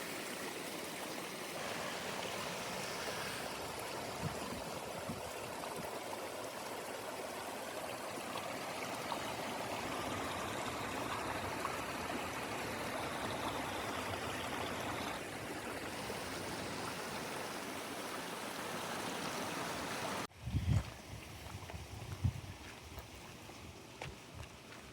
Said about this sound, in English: Gotta love the sound of a beautiful waterfall.